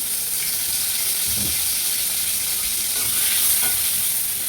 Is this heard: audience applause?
no